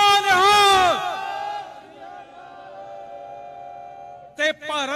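A Sikh jakara war cry, answering 'Jo Bole So Nihal', rises as a loud crowd shout at the start, holds as a long ringing vocal tone, then breaks into a fresh burst of shouting near the end.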